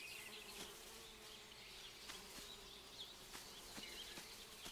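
A swarm of bees buzzes steadily in the puzzle video game Viewfinder. The drone is soft and constant, with faint clicks and flutters scattered through it and no voices.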